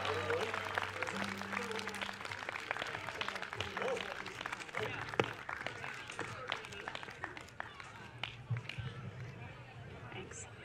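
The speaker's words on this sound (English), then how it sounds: "Come on, clap her up." An audience at a storytelling event applauds as a storyteller walks to the stage, a faint, distant spatter of clapping mixed with crowd murmur and scattered voices, with a few sharper claps standing out.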